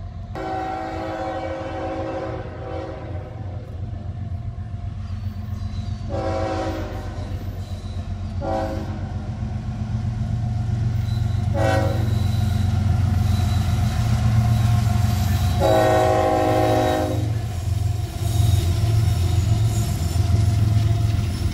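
A CSX intermodal freight train rumbles past on the Greenwich, Ohio line, a steady heavy roll growing louder, punctuated by four long blasts of its chime horn, the last the strongest.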